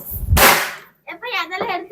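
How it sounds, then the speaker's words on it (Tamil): A single sharp beedi firecracker bang bursts out during Diwali celebrations and fades, followed by a moment of silence and then a person talking. "இப்போ பார்த்தீங்கன்னா பீடி பட்டாசு வெடிச்சிட்டு இருக்கிறோம்"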